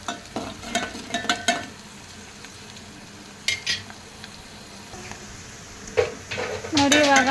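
Semolina dry-roasting in a pan for white vegetable upma is stirred with a utensil, giving intermittent scraping and clinking strokes over a faint background sizzle, with a louder burst of stirring near the end.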